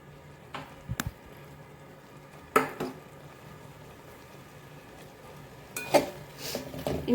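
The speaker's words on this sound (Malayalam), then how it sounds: "ഇനി ഈ മസാലയിൽ എല്ലാം കൂടെ നല്ലോണം നമുക്ക് മിക്സ് ചെയ്യാം" Fried brinjal is stirred into masala in a pan, with a few sharp spoon knocks and scrapes against the metal separated by quiet gaps and a faint low simmer.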